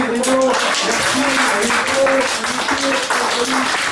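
An audience at a Semaine Bleue senior-week show in Saint-Hippolyte-du-Fort applauds the performer, a steady wash of clapping running under a voice and sustained musical tones throughout.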